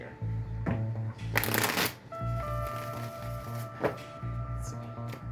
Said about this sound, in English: Let me give it a fresh shuffle here.